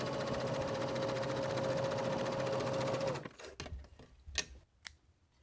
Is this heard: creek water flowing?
no